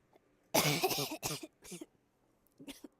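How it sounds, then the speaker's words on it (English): A loud, harsh burst of coughing close to the microphone, then a couple of shorter coughs trailing off, with a faint final hack. "Immediately coughs in your face."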